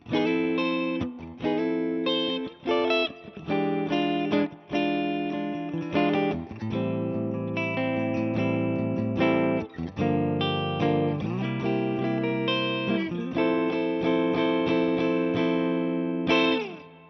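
A PRS Private Stock Hollowbody II electric guitar on neck and bridge humbucker pickups, volume at full, plays chords and runs, warm and full with effects, continuous and up close with no talking.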